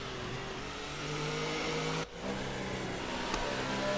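An F2 racing car engine in a sim racing game at the Belgian GP, droning steadily as it weaves on track, with a brief dip in the middle before it picks up again. No voices are heard.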